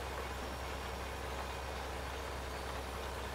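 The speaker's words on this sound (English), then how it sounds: "Got a different engine noise, which is good." Vehicle engine from the Farming Simulator 2013 video game running steadily at idle, a dense constant low rumble and hum that stays even and fairly loud for the whole stretch, with no voices.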